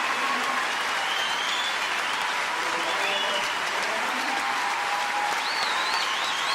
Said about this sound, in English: she's getting a standing ovation from the crowd